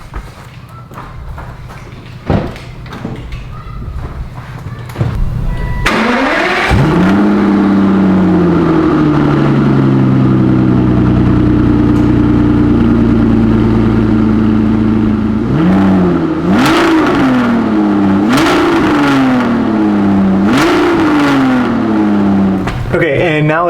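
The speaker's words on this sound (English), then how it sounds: "Well, a cold startup." An Aston Martin V12 with its standard exhaust cold-starts with a loud bark, then settles into a steady, high fast idle that runs alone for several seconds before a few sharp revs rise and fall near the end.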